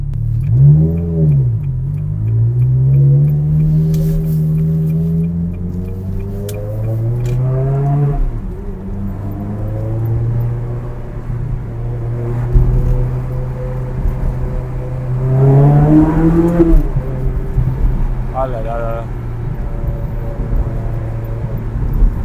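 A Ferrari 360 Modena engine with a stainless steel exhaust revs loudly and repeatedly, its pitch climbing and falling in sweeping waves before settling into a steady idle between blips.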